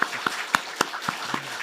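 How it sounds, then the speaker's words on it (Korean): Scattered, sparse clapping from a small church congregation at an early-morning new year prayer service, a handful of separate claps spaced about a quarter second apart, close and fairly quiet. "고맙다고 박수 한번 하면 좋겠습니다."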